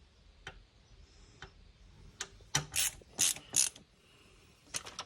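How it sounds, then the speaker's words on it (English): A screwdriver turns a small screw while fastening a Samsung 870 QVO 4TB SSD into a computer, giving a series of close, quiet ratcheting clicks in short irregular bursts. "So I'm basically screwing it down so I can have the leverage to the SSD"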